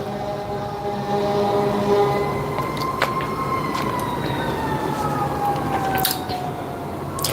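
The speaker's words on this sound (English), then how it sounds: "you guys are going to hear ambulances and whatnot because I'm near a hospital" A wailing siren rises and falls steadily over a constant background rumble, sounding fairly close and persisting throughout.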